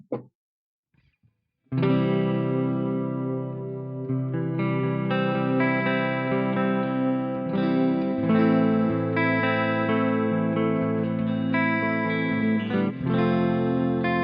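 A 2005 Epiphone Les Paul Standard electric guitar plays on its neck pickup with a clean tone, ringing sustained chords and notes after a short pause, strummed steadily and up close for over twelve seconds.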